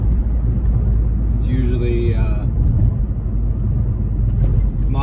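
Car with a Tekmektronic stage 1 tune cruising under light load, a steady low engine and road rumble running throughout while a person talks over it.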